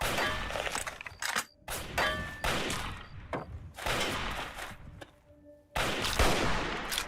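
Hunting rifle shots in Fallout 3 ring out as several loud, sharp cracks separated by pauses, each followed by a brief ringing tail.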